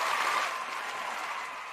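A burst of crowd applause played as a sound effect, dense steady clapping that gradually fades over under two seconds, with no voices over it.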